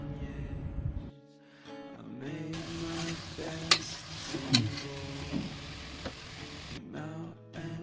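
Chicken for a cooker biryani is stirred and fried in a pot, with a continuous sizzle broken by a few sharp scrapes and clinks of the spoon, close up, bracketed by short quieter pauses.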